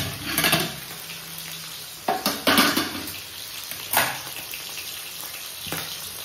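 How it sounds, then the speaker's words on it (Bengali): Fish sizzles in hot oil with a steady crackle, broken by a few scraping stirs and clinks of a utensil against the pan. "মাছ ভাজা হচ্ছে, এখানে হাফ মাছ ভাজা হয়ে গেছে"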